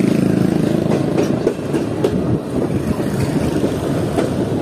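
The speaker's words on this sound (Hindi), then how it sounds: "से निकलने के बाद काफ़ी शार्प कब ले रही है ट्रेन इस वक्त।" A Green Line Express passenger train from Lahore to Karachi rounds a sharp curve, a loud continuous rumble with faint rhythmic clatter of wheels heard from inside the carriage.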